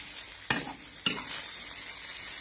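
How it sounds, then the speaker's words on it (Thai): Food frying in a pan, a continuous close sizzle broken by two sharp utensil knocks against the pan early on. "ทอดให้เขาสุกเลย"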